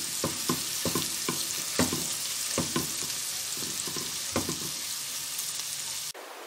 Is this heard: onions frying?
yes